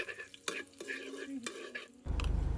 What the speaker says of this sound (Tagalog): Unang inilagay ko nga itong ating diniktik na bawang.